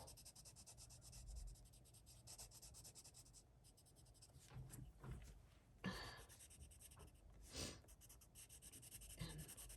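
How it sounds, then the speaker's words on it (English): Colored pencil strokes scratch across paper while filling in a cute horror color-by-number page, a steady close rubbing texture broken by short quicker scribbling bursts, with no talking. "And we'll just fix his shoes with a little pencil."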